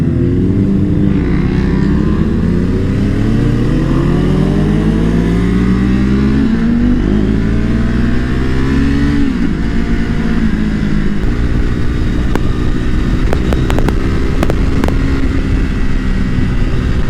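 Motorcycles on a group ride rumble loudly and steadily throughout, with rising and falling engine pitch as riders accelerate and shift, plus wind buffeting, close and continuous with no voices.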